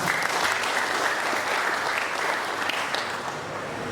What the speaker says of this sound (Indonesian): Tepuk tangan untuk teman-teman semua.